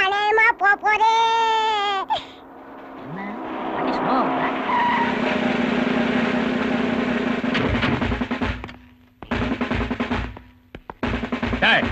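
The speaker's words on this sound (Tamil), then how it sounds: "ஏய் பெரிய வண்டி வருது" A big vehicle approaches and skids in a Tamil comedy film scene, with loud tire screeching and engine roar across most of the stretch, preceded by a crying voice and followed by short bursts of noise and voices.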